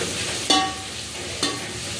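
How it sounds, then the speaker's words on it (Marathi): Onion and tomato frying together in a pan for chicken biryani, a steady soft sizzle broken by two brief stirring scrapes, close up with no voices. "त्याला आपण 1-2 मिनिटं फ्राय करूया."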